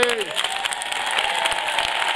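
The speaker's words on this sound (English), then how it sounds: "Now, a big hand clap, everybody." A church congregation claps hands during a televised service, a dense bright patter of many hands with crowd noise and a brief voice or musical tone at the start.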